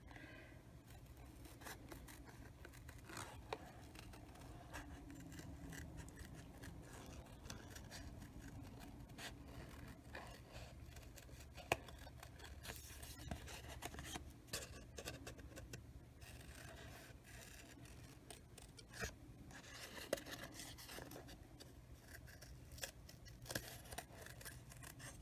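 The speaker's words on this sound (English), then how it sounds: "I'll go ahead and fussy cut around the black" Scissors snip carefully around paper for a birthday card, giving soft, irregular cutting clicks and rustles that are faint and close, with no talking.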